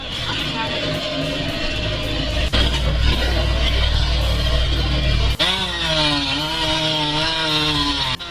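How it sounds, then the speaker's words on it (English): A homemade firewood processor cutting logs with a loud, continuous chainsaw-like engine drone that shifts in pitch as it works, with a sharp break midway and talk over the top. "With this homemade wood processor"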